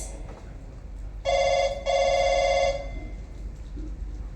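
A telephone at a police station in a Bengali radio play rings in two loud electronic bursts, a short break between them, then falls silent.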